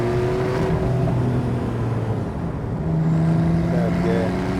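A Porsche 991.2 Carrera GTS in Sport Plus mode pulls hard in second gear from about 30 mph, its engine a loud, steady rising drone with a strong low hum filling the cabin throughout.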